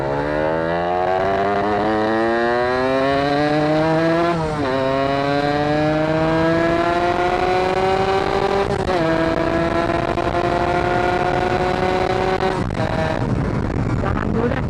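A Yamaha Satria 2-stroke motorcycle fitted with a YZ125/85 ignition coil screams at full throttle in second gear, its loud buzzing engine climbing steadily in pitch through several rising sweeps with brief dips, close and continuous.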